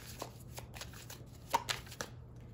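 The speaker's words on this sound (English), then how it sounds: "I'm gonna pull some Oracle cards" Oracle cards being shuffled by hand, a soft, quiet riffling with several short flutters and taps over low background hum, no talking.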